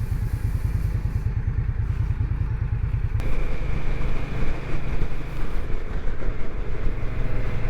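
Indian Scout Bobber motorcycle riding along with a strong, steady engine drone, pulsing low rumble that shifts pitch and character partway through as gears change.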